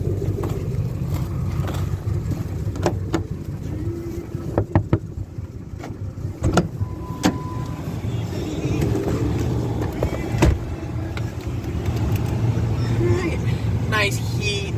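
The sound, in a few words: Ford F-Series pickup truck driving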